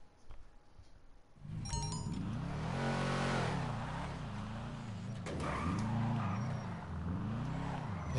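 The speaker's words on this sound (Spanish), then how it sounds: "Vamos a probar el coche." Karin BoOR, the in-game Subaru Brat pickup in GTA V, drives with a steady engine drone whose pitch climbs and dips as it revs and shifts, loud and close, with no talking.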